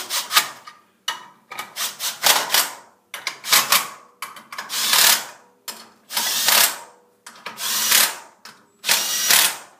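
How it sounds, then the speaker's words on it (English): Repeated short bursts from an impact wrench driving in the screws of a Dalton clutch kit on an XP 900, roughly nine loud, close rattling bursts separated by brief pauses, with no talking. "Now, I use an impact."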